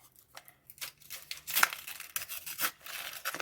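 Paper crackles and rips in several short bursts as a small paper surprise packet is torn open during an unboxing, close and crisp against near silence.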